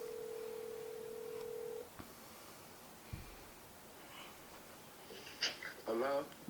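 A telephone call is placed: a steady dial tone holds for about two seconds, then stops, and short dialing beeps and faint handling noises follow near the end.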